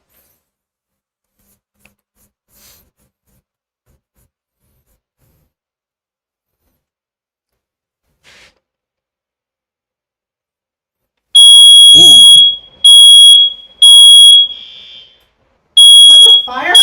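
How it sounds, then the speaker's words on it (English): A smoke-detector fire alarm goes off during a live online math tutoring session, sounding sharp, loud, high-pitched beeps in repeated bursts with short gaps after a long quiet stretch, while a person briefly exclaims. "Is that the fire alarm?"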